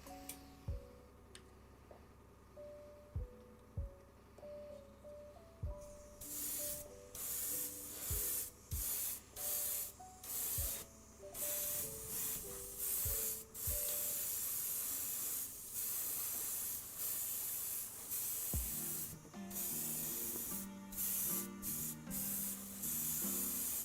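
An airbrush sprays paint onto a hobby miniature in short and longer hissing bursts, with quiet clicks and handling sounds between sprays and a faint background hum.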